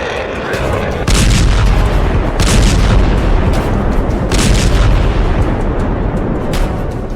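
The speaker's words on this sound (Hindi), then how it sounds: "तेल अवीव में मिसाइलों से तबाही" Missile explosions in Tel Aviv during the Iran war: loud, continuous rumbling booms and blasts fill the whole stretch, with heavy low-end roar and repeated surges of crackling impact noise, no speech.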